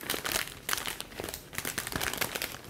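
Plastic sheet crinkling and rustling up close as it is pressed into a gapped basket for a flower arrangement, with irregular bursts of crackle throughout.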